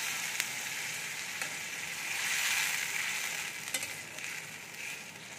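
Masala paste of ginger, green chili and tomato frying in hot oil, a steady close sizzle with faint spoon stirring scrapes, swelling briefly and then easing off, with no talking.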